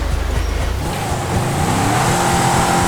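A Mahindra Thar 4x4 in GTA 5 revs hard as it strains to climb a hill, a steady loud engine drone with low rumble that shifts pitch partway through and keeps going without pause.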